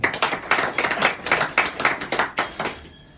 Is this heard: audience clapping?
yes